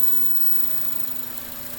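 A 2003 Honda Accord engine with a stalling fault idles roughly and steadily up close, a constant low hum with slight unevenness, with no talking.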